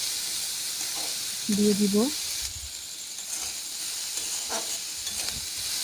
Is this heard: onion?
yes